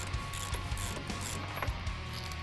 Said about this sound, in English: So I'm just taking off this top and bottom bolt